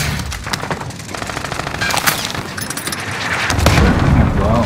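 Enemy cluster strike explosions in a battle-royale shooter: rapid bursts of gunfire and crackling blasts stack up, swelling into a louder rumbling impact toward the end, with faint voices in the background.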